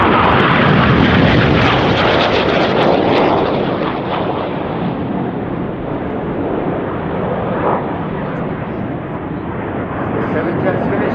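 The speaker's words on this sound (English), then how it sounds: "The jet's about to split into a huge palm with the synchro pair staying low" A loud, sustained jet roar fills the air, broadband and rumbling, swelling and easing slightly as low-flying display jets pass close overhead at the RIAT 2018 airshow.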